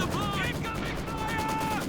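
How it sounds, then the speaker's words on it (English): Rapid bursts of anti-tank gunfire crackle steadily through a dense, noisy game soundscape, with whistling tones drifting over the top. "Rotating from side to side, avoiding anti-tank gunfire."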